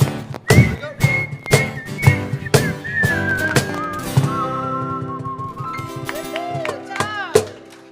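Church congregation whistles a tune together during a Sunday service, many overlapping whistled notes mixed with sharp knocks and percussive hits, fairly loud throughout.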